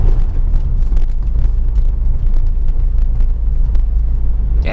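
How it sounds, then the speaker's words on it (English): Subaru WRX rolling over a bumpy neighborhood road, a steady loud low rumble of engine and road noise with occasional thumps from the firm suspension, continuous throughout. "Let's take the WRX down our neighborhood bumpy road."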